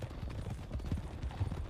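Horse hooves clip-clop at a steady walking rhythm, close and moderately loud, as a rider travels on horseback in the western roleplay game RedM.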